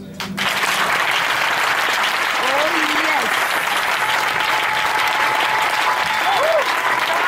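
A church congregation claps and cheers steadily for several seconds during a Sunday worship service, loud and sustained, with bits of voice rising through the applause.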